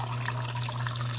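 Water pours steadily from a tarpaulin as a faint, continuous splashing trickle over a low steady hum, with no pauses through the short stretch.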